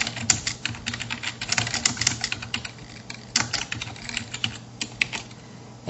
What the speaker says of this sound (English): I'm just going to type in a very simple question